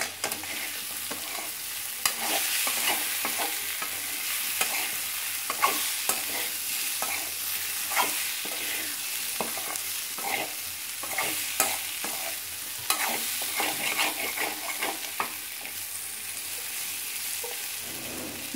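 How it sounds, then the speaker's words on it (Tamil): Raw plantain slices coated in masala are stir-fried in oil, giving a continuous close sizzle broken by frequent scraping stirs and clicks of the spatula throughout, with no talking. "நல்லா ஈவனாக போட்டு அப்படியே பிறக்கி விட்டுறேன்"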